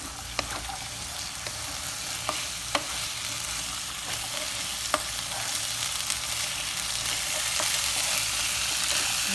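Chickpeas cook in spices in a pan with a soft, steady sizzle, broken by sharp clicks and taps of a spoon stirring against the pan at irregular intervals, with no talking.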